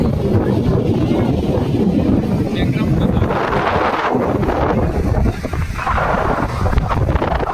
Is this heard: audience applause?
no